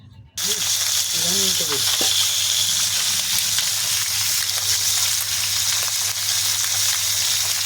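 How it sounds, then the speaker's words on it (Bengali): Two pieces of fish go into hot oil in a small pan, and a dense, loud sizzle starts almost at once and holds steady to the end. A brief voice-like sound is heard early on. "ছোট কড়া, তার জন্য 2 পিস মাছ তুলেছি, এখনো ভাজা হয়নি, সবে তুললাম"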